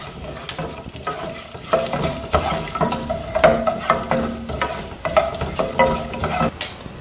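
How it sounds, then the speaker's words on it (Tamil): Coriander seeds and fenugreek are roasted in a pan with a little oil, crackling softly under frequent, rhythmic stirring and scraping strokes that rise and fall. "கொத்தமல்லி இருக்கு இல்லையா, அதை போட்டுடலாம். அப்புறம் வெந்தயம் போட்டுடலாம். முதல் 2ஐயும் நல்லா வறுத்துக்கலாங்க."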